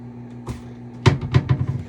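A steady electric microwave oven hum runs under a few sharp clicks and clunks of the door and buttons being handled nearby.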